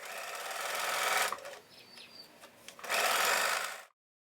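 A sewing machine stitches fabric in two runs separated by a short pause with a few light clicks, as when back tacking; the motor hum is steady and close, then stops abruptly.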